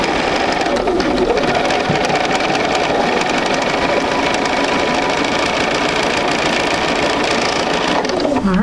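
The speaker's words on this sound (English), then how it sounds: "We're going to sew right on that line." Sewing machine running steadily through quilt fabric along a marked line, a continuous loud mechanical whir with rapid stitching rhythm that slows and stops near the end, no talking.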